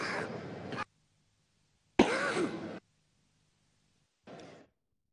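A man with a cold coughs and clears his throat in three separate bursts separated by silence, the first two longer and louder, the last short and quieter, close to the microphone.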